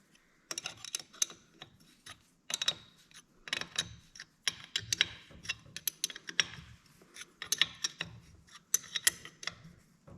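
A ratchet wrench clicks in quick bursts while tightening bolts on a 2000 Yamaha TTR 90 dirt bike, separate runs of sharp, close clicks broken by short pauses, fairly quiet overall.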